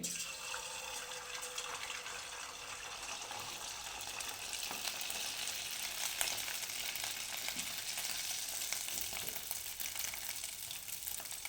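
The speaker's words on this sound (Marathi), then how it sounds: "त्याचे आपण वडे आता तेलामध्ये गरम तेलामध्ये सोडून घेणार आहोत" Fasting dahi vada batter drops into hot oil over medium heat, giving a continuous bright, hissing sizzle with fine bubbling crackle that holds steady and fairly soft throughout, with no voices.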